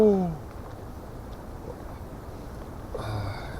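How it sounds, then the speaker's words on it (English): Steady wind on a frozen lakeshore rushes and buffets the microphone in a low, continuous roar, with a brief voice at the start and a gust near the end. "It's very windy out."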